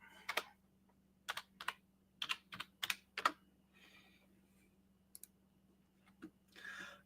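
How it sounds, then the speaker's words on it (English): Keys clatter on a computer keyboard in short irregular bursts of quick clicks with brief pauses between, close and fairly quiet over a low steady hum. "And I typed in the wrong stuff."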